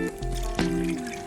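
Water pours into a pot over a campfire for cowboy coffee, a brief close gurgling trickle with a sharp slosh midway and no talking.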